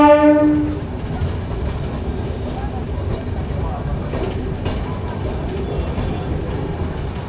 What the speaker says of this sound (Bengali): দু মিনিট দাঁড়ানোর পরই নৈহাটি থেকে ট্রেন ছেড়ে দিয়েছে